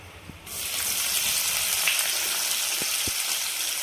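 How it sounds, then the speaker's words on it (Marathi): Onion dropped into hot oil with bloomed cumin seeds for green pea paratha, bursting into a loud, steady sizzle after a quieter start, with a couple of faint utensil taps near the end. "जिरे छान फुलल्यानंतर आपल्याला याच्यामध्ये कांदा टाकून घ्यायचा"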